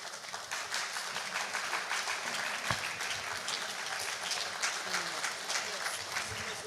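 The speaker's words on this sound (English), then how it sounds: "a round of applause, please." Applause from an audience at the 2024 Midwest Achievers Award ceremony, a dense, continuous wash of clapping that stays level throughout, heard from some distance with faint voices mixed in.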